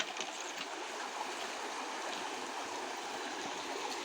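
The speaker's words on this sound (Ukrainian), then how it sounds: "Хлопці зробили водопад, наложили камні." Steady rushing and splashing of muddy, cold river water tumbling over piled stones, a small man-made cascade on the Inhulets River heard close up with a constant broadband roar and no voices.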